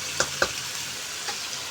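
Chicken, onion and tomato fry in a pan for aloo chicken salan, a steady close sizzle broken by two sharp metallic spoon clinks early on and lighter stirring scrapes after.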